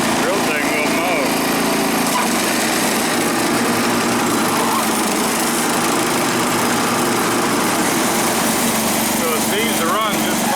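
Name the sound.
Wheel Horse 315 garden tractor engine running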